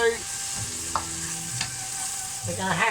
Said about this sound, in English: Let's just keep this frying and smoothing around.